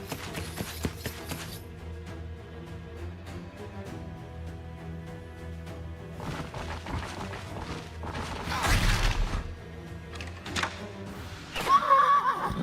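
Horses whinny and neigh in the video game Wartales, mixed with combat clatter, thuds and crashing impacts. Louder bursts near the middle and the end sit over a busy, layered game soundtrack.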